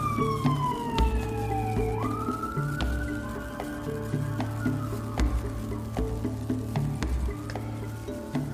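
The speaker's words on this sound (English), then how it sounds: "And as you hear the siren" A police siren wails in the background, rising and falling faintly and at a distance, with a low, steady hum and intermittent clicks and crackles nearby.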